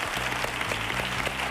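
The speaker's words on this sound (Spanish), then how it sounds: "Un aplausito para Óscar, por favor." Studio audience at a Spanish copla television talent show applauding for a contestant named Óscar, a dense, steady burst of clapping from a sizable crowd, fairly near and continuous throughout.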